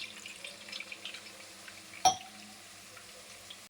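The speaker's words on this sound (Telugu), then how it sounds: "సో పాస్తా అంతా స్ట్రెయిన్ చేసుకున్నాక ఇందులో మనం కూల్ వాటర్ యాడ్ చేసుకోవాలి" Cool water poured over freshly strained pasta for a pasta dish, a faint steady wash of running water with one brief louder splash partway through.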